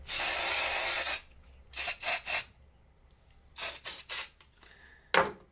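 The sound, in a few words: texture spray spritzed onto hair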